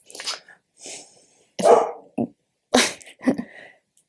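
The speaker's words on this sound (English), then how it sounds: "there's a grumpy dog" A grumpy dog grumbles and huffs in short bursts, several close, throaty snorts and rumbling noises separated by brief pauses, with no talking.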